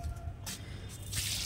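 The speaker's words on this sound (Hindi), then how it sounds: "यहाँ से स्टार्ट करते हैं पानी देना" Water drips and splashes onto potting soil while potted plants are watered: short wet bursts and spattering, close and moderately loud over a low rumbling background.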